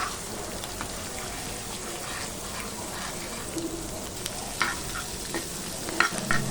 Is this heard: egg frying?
yes